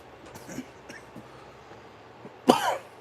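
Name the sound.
person coughing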